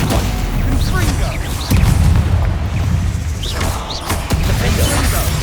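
A fiery Confringo blast spell from Hogwarts Legacy lands as a heavy boom among a quick run of spell impacts and bursts during combat. Loud and close, with a voice shouting over it.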